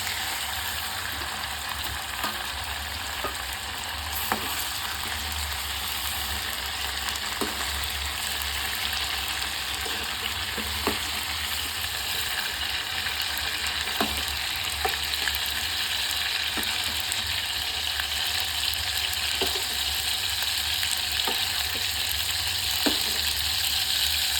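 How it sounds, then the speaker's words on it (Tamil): Chicken pieces for butter chicken fry steadily in a pan, a constant broad sizzle running throughout with scattered small clicks and taps as pieces are lifted out one by one. "சிக்கன் இப்போது நல்லா ஃப்ரை ஆகிட்டு சிக்கனை ஒவ்வொன்றா எடுத்து வேறு ஒரு பிளேட்டில் எடுத்து வச்சுக்கணும்"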